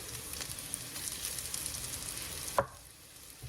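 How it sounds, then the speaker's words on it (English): Shallots and herbs sizzle in a frying pan for chicken hearts, a steady crackling hiss with a sharp clink near the end before the sizzle drops quieter. "Stir up those shallots."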